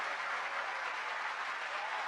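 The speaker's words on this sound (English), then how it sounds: "You clapped for a really long time" A theatre audience at the Winter Garden Pavilion in Blackpool claps steadily and densely, a continuous wash of applause at even volume.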